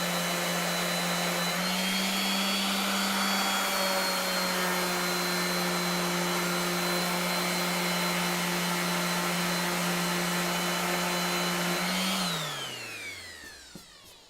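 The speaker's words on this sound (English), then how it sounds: "Gonna have to sand now." Steady whine of a power sander taking clear coat off Bally Wizard pinball parts, loud and continuous, with a constant motor tone that winds down at the end.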